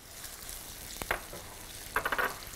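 Onions sautéing in a pan for eggplant moussaka with béchamel, a steady low sizzle with a few brief clatters of stirring, close and moderately loud, with no talking.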